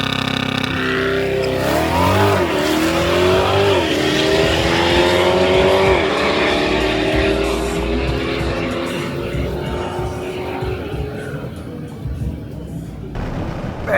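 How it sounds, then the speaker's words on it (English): Chevrolet Corvette C8 E-Ray accelerating hard in a drag race, a loud rising engine whine climbing through gear shifts over several seconds, then fading into road and wind rumble, with excited voices mixed in. "Man, this car's so fast."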